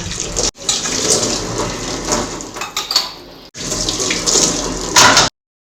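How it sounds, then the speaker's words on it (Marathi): Tap water runs steadily into a kitchen sink while dishes and small knives are rinsed one by one, with brief breaks in the flow and faint clinks of utensils. "आता धुवायला घेतो एक एक करून. चाकू लहान चाकू वगैरे ते धुतो."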